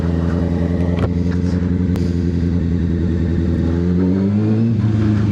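A motorcycle engine runs steadily up close with a rumbling, harmonic drone, its pitch rising near the end as the bike pulls out and accelerates away, with light mechanical clatter.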